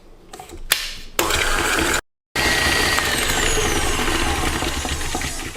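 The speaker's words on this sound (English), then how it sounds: "Into a mixer with the dough hook attached, add the butter, into that brown sugar, and mix it about 1 minute until it's nice and creamy." A stand mixer fitted with a dough hook beats butter and brown sugar, giving a steady whirring, geared motor drone with a few knocks at the start and a brief gap partway through.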